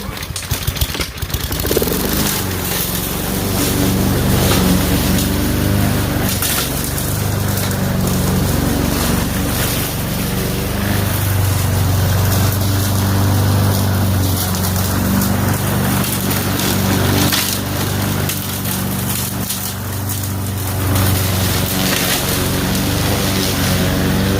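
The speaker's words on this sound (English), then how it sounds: "I'm going to process with the mulcher on this power mower here." A power mower fitted with a mulcher chews up soft, freshly pruned orchard branches, a loud, steady engine drone running the whole time with a deep rumble and bursts of rougher shredding noise as the load feeds through.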